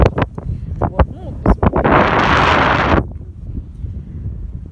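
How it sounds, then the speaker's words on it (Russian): A gust of wind roars over the microphone for about a second during an outdoor excursion at Zeya, set among scattered knocks and handling noises. "Погода не очень. Да, здесь ветер."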